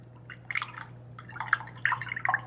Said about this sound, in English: And just go ahead and stir this together.